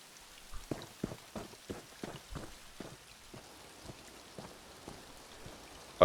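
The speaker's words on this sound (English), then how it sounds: "still hearing the sounds of rain while I am already in the manor" Rain falls in a fantasy video game world, a soft patter of scattered drops tapping irregularly on a surface, fairly faint and steady with no voices.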